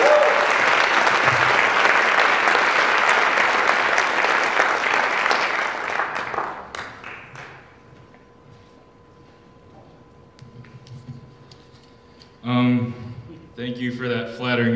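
An evening audience at a Fordham Prep celebration gives a long burst of loud, dense applause to welcome the student speaker. The clapping fades after about six seconds into quiet room noise, and a voice begins speaking near the end.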